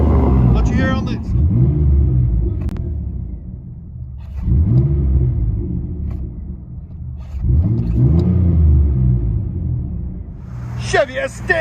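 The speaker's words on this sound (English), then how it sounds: "Chevy S10, straight pipe, 4-inch tips, wide pipe setup." 2003 Chevy S10 pickup with a 4.3L V6, straight-pipe dual exhaust and 4-inch tips, revved three times in deep rumbling bursts between idle, close and loud.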